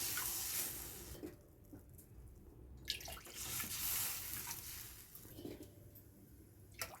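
Water poured from a vessel into a pan over roasted rava while making mango kesari bath, a faint splashing trickle broken by a few clinks and knocks of utensils, with no voices.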